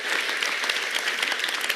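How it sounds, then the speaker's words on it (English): Workshop attendees at a leadership and public speaking session give themselves a round of applause, a dense, even burst of clapping close by and loud from start to finish. "Give yourselves a round of applause"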